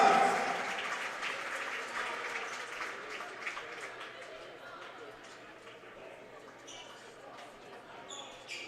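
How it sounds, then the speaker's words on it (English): Clapping from the crowd at a high school basketball game in a community college gym rolls on steadily for several seconds, fading gradually toward the end with scattered chatter and a few sneaker squeaks underneath. "Give Christian Younger a round of applause."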